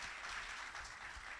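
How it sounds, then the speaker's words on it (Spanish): A church congregation clapping, heard as a dense, steady patter of many hands that keeps up evenly for the whole short stretch, with no voices on top. "Démosle un fuerte aplauso al Señor"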